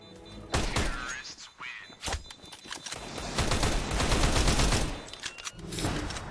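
Bursts of gunfire crack and rattle in a Counter-Strike match at the IEM Sydney 2019 final, with sharp shots and short automatic volleys at varying loudness over a few seconds.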